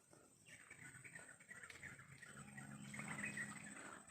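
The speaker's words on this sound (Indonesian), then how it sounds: "Itu burung-burung masih berkicau." Birds chirp faintly in a mangrove forest in East Kalimantan, with scattered thin calls that grow a little clearer toward the end over a quiet, low background.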